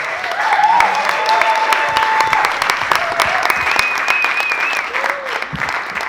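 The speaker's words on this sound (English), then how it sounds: "Give the old man a round of applause." An audience at a slam poetry championship breaks into sustained applause after a performance, dense clapping filling the room steadily while a few voices and whoops rise over it.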